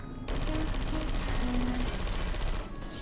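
A turret in the video game Portal 2 firing a continuous rapid stream of shots, loud and close, after a brief quiet start, with faint tonal game sounds behind it before it cuts off near the end.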